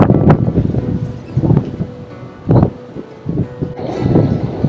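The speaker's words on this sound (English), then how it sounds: "I don't know if you can hear me that well in these insane gusts" Strong wind gusts buffet the microphone in irregular rushing bursts, loud and close, with brief lulls between them.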